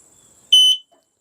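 An X-Sense FS51 WiFi smart smoke alarm gives a single loud, shrill electronic beep during setup, a sharp tone of about a quarter second heard close up against near silence.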